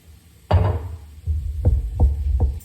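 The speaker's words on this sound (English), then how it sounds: "My dishwasher just kicked into another phase of the cleaning" A home dishwasher running its cleaning cycle gives off a low, heavy throbbing. Deep thumps, one broad surge and several shorter pulses, rise and fall irregularly over a constant hum and sound fairly close in a kitchen.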